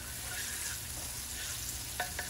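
Minced garlic sizzling in melted butter in a pan over medium-low heat, a steady, faint crackling fry with a couple of small stirring clinks near the end.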